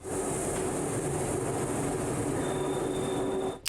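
A train climbs through rainforest on a mountainside track, producing a steady rumbling roll with faint rhythmic clatter and a thin high whine throughout, no voices heard.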